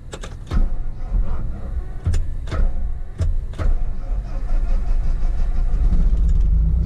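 A twin-engine airplane's flooded engine cranks over repeatedly, with sharp spaced bursts and sputters that fail to catch, building toward a rougher sustained rumble at the end.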